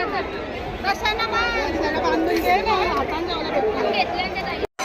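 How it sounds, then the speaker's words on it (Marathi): A large crowd chatters at the Mhasa Yatra fair, with many overlapping voices forming a busy babble and nearby talkers standing out clearly above the general hubbub. "गर्दी आहे आज रविवार आहे खूप गर्दी आहे"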